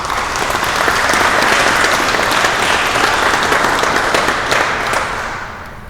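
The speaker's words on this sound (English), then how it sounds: "give a short round of applause to our panelists today" A conference audience at a banking event applauds its panelists with steady, dense clapping that holds for several seconds before tapering off near the end, with no voices over it.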